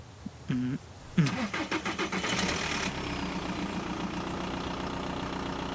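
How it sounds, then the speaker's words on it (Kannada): A car engine cranks and catches with a loud burst near the start, then settles into a steady rumbling idle that continues to the end, with no talk over it. "ಗಾಡಿ ಸ್ಟಾರ್ಟ್ ಮಾಡು"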